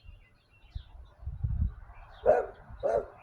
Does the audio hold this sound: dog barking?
yes